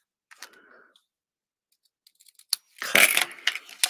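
Scissors snip through a paper greeting card close by, a quick crisp burst of cutting after a few faint handling rustles.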